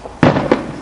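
A firework goes off outdoors on Bonfire Night with a loud, close bang, followed a moment later by a second, weaker crackling burst, both very brief.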